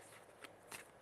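A brief hand shuffle of tarot cards, two quick soft riffles close by and quiet, with no talking.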